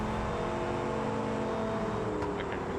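A V8 race car engine in the BeamNG.drive driving game during hotlaps, holding a loud, steady whining drone with a faint tonal shift near the end.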